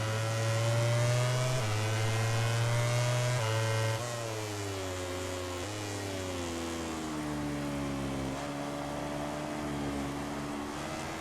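A racing Aprilia motorcycle engine in MotoGP 18 at Mugello whines steadily at high revs, its pitch rising through each gear and then dropping sharply at the shifts, loud and continuous.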